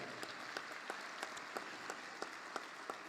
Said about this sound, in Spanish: Vamos a que se escuche ese aplauso para Santiago Papasquiaro.